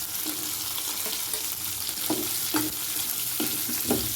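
Tamarind and curry leaves sautéing in a hot pan, with a steady loud sizzle and periodic scraping stirs of the spatula, close up and with no talk.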